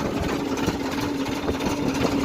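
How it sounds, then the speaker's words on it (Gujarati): A tractor engine idling after being restarted, a steady low mechanical hum with a constant droning tone and faint vibration, close and even, with no talk over it. "તો હમણાં જો આપણે જમીને ટ્રેક્ટર પાછું ચાલુ કર્યું,"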